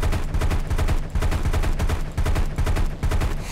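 Aircraft machine gun fire in War Thunder, loud rapid rhythmic bursts hammering almost continuously with brief gaps, close and dominant with no voices.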